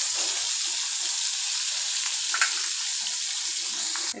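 Fish frying lightly in a pan, a steady bright sizzle that holds evenly throughout with an occasional faint pop and no voices.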